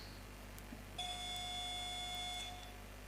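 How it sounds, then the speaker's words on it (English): Quiz contest buzzer being tested: a steady electronic beep sounds alone for about a second and a half against a quiet room hum, then cuts off. "can we test our buzzers?"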